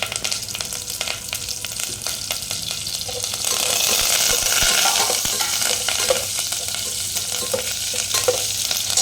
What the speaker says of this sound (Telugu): పచ్చిమిర్చి ఫ్రై అయ్యాక కరివేపాకు వేసుకోవాలి.